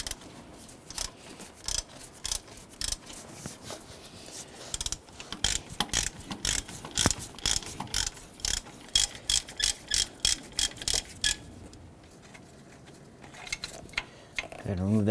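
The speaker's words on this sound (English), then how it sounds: "We're going to use our 1/2" drive ratchet with our T55." A 1/2-inch drive ratchet with a T55 Torx bit loosens the accessory belt tensioner bolt on a 1994-2004 Ford Mustang 3.8L, giving long runs of rapid, close clicking strokes that pause briefly near the end.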